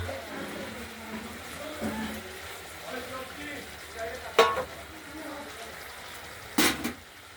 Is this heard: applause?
no